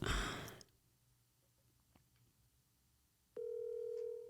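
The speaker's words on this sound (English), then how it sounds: "Let me call him really quick." A phone call is placed: a breathy sigh, a couple of faint clicks during near silence, then a steady ringback tone starting abruptly near the end, close and clear.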